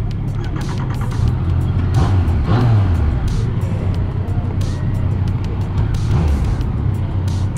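A Yamaha Niken GT three-wheeled motorcycle starts and settles into a loud, close engine rumble with uneven revving, steady low drone throughout.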